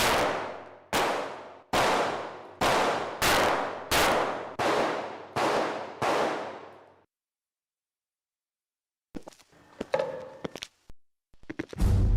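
Seven sharp gunshots fired at a target ring out one after another at a steady, fairly quick pace, loud and close with a short metallic decay, then silence before scattered clanks and thuds.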